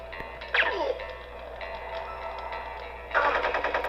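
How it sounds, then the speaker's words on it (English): Gunfire in a first-person shooter game on a PlayStation (PS1), a sharp burst of shots near the start and another rapid volley near the end over a steady electronic game-soundtrack drone. "Oh! I shot him, but not enough."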